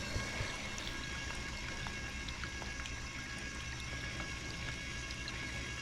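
A cheap $12 mini washing machine drains, letting out a continuous, soft pouring stream of water at low volume from start to finish.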